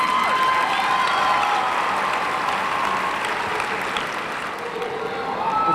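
A commencement audience gives a round of applause for medallion winners, steady and loud massed clapping in a large hall, with faint cheering and voices under it.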